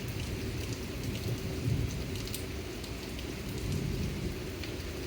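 Thunderstorm with steady, heavy rain pouring down and a low rolling rumble underneath, continuous and close throughout.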